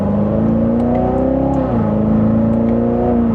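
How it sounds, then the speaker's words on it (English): A Chevrolet Corvette C7 Z06 engine pulls through a mild acceleration, its loud, steady, close-up drone rising in pitch, dipping briefly at a shift, then climbing again, with no talking. "So we'll just give it a minor acceleration where you still have plenty of power and get up. It also sounds really good too."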